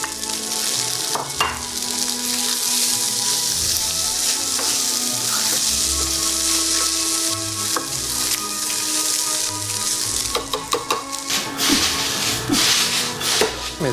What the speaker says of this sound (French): Je vais le laisser encore frire pendant environ 5 minutes.